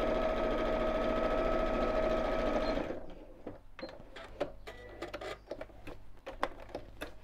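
A sewing machine stitches straight across a drawstring pyjama bag, running in a steady loud whir for about three seconds before stopping, followed by quieter clicks and handling noises.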